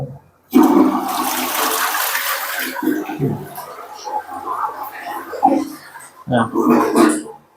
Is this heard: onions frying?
no